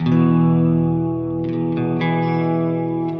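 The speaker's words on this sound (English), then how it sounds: "on the second pedal, I have chosen a choir type of reverb where it adds a vowel into the sound" Guitar chords run through a choir-type reverb pedal that adds a vowel-like "ah" tone, a loud, sustained, swelling wash with a few fresh strums over a thick, lingering tail.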